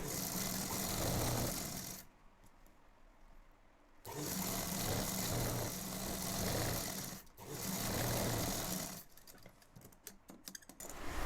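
Sewing machine stitching a ladies' cigarette pant: bursts of rapid, steady mechanical whirring lasting a couple of seconds each, broken by short pauses with light clicks, close and loud.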